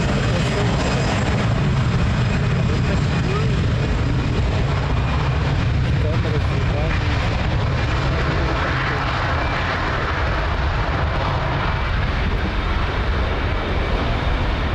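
A jet airliner taking off from runway 02 at Lisbon Airport gives a loud, steady engine roar that holds broadband and unbroken for the whole stretch, with no breaks or gaps.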